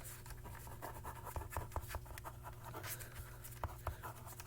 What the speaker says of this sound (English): And so I'm going to write